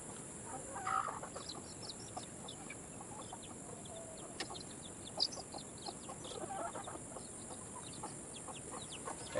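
A Rhode Island Red hen clucks in short, soft, scattered calls over steady background hiss and low rustling on a farm, other chicken sounds faint around her.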